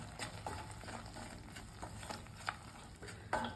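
A spoon stirs turmeric, coriander, chili, cumin, garam masala and pepper powders into Hyderabadi paneer masala gravy in a pan with a little oil, soft scraping strokes over a gentle frying sizzle, close and steady.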